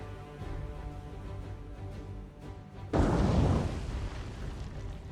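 A torpedo strikes a ship in the naval war game War on the Sea. After a low, steady droning hum, one sudden heavy explosion bursts in and then rumbles and fades over a couple of seconds.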